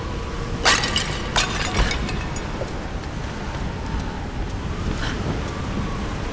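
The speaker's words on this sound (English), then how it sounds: "Sounds like it's getting a tad bit windy." Wind blowing in the Tomb Raider video game, a steady airy rush with a few sharp cracks and knocks near the start and a soft swell near the five-second mark.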